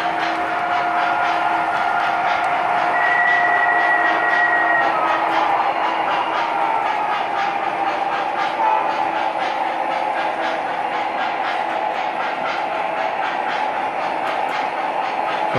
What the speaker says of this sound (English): So here's the first train now coming up to its next tag reader.